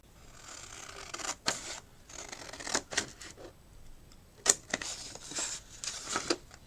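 Scissors cutting paper for an envelope flip flap journal, a series of quiet sharp snips and rustles at irregular intervals, close and faint with no talk.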